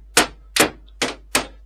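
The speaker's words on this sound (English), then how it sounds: "Let the hammer do the work." A hammer drives tongue-and-groove wood boards into place with four sharp, evenly spaced blows, each a crisp near knock with quiet gaps between.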